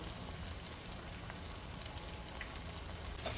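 Chili powder frying in a pan with other masala for a bitter gourd and gongura pickle, giving a steady soft sizzle and crackle throughout, with a few tiny pops and no talk.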